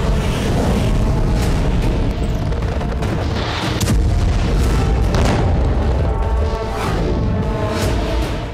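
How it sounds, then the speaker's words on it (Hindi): Missile strike explosion from a Houthi anti-ship ballistic missile attack in the Gulf of Aden, a continuous loud rumbling boom with repeated blasts and crackling bursts, no voices. "यमन से हूती ने एंटी शिप बैलिस्टिक मिसाइलें दागी"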